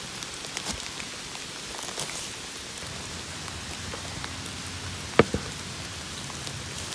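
Steady rain falls outdoors while someone picks red Russula mushrooms, making an even hiss with scattered drops pattering close by. One sharp click stands out near the end, and no one speaks.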